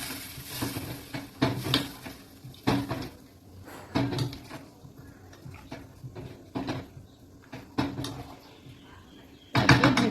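Clattering kitchen sounds of a metal lid going onto a cooking pot of potatoes, beans and tomatoes in water at home, several sharp knocks and clinks spread over the clip with a louder clank at the end.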